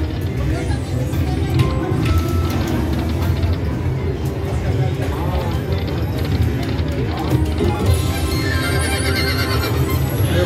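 A casino slot machine plays a horse neigh and galloping clip-clop effect amid busy electronic game noise, with a person talking excitedly over it.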